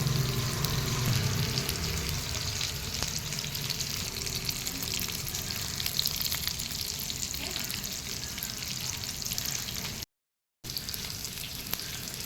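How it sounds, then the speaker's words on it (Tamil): Sankara fish frying in hot oil for a Sunday non-vegetarian meal gives a close, steady, dense sizzle with light stirring scrapes, continuous for most of the clip apart from a brief gap near the end, with no talking. "ஃபிஷ் ஃப்ரை ஸ்டார்ட் பண்ணிட்டோம் சங்கரா மீன் வறுவல் சூப்பராக ரெடி ஆகிட்டுருக்கு"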